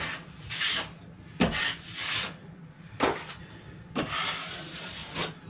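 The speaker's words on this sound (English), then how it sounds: "so now we're just going to put a skim coat on here" Drywall knife spreading and scraping back a skim coat of joint compound over repaired basement drywall after flooding, a series of close rasping swipes in uneven bursts with short pauses between strokes.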